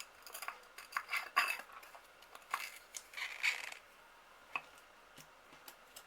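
Plastic lid of a Gershion dip powder container being twisted back on, a quiet series of small ticks, scrapes and clicks up close, then a few faint taps.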